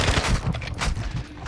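Call of Duty DMZ gunfire sounds as a loud, close burst of rapid automatic shots, dense and rattling for the full short stretch.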